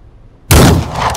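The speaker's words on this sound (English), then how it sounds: "He's gonna come back in and shoot." A single loud gunshot rings out in the crime strategy game Empire of Sin, bursting abruptly out of near silence and trailing off in a short, noisy tail.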